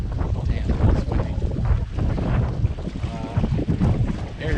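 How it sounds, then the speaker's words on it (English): Strong wind from Hurricane Isaias roars and buffets the microphone continuously, a loud, gusty rumble with faint voices underneath. "Damn, that's windy."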